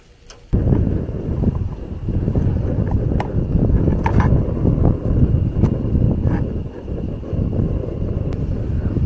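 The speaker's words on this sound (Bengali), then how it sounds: "বাইরে প্রচুর বাতাস" Strong wind blowing outdoors at night past trees around a tree house, a loud continuous roar buffeting the microphone after a brief quiet start, with occasional sharp knocks.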